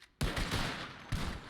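A volley of rifle shots from deputies in a Wild West roleplay game: a loud, dense crack of simultaneous gunfire that rolls into a sustained rumble, followed by a second fusillade about a second later.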